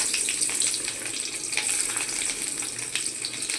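Chopped onion hits hot oil already spiced with black cumin seeds and sets off a dense, continuous sizzle and crackle that stays loud and even, with no voices.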